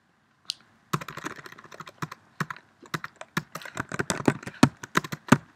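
Computer keyboard keys clicked in quick irregular bursts while a search term is entered, the crisp taps close and fairly loud with brief pauses between them, no speech.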